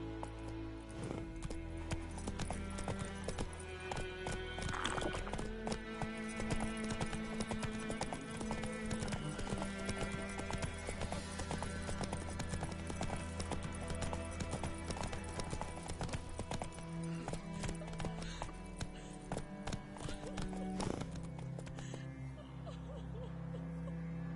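A horse in The Witcher runs with a steady, rapid clip-clop of hooves, close and continuous under a bed of game music, with brief neighs breaking through.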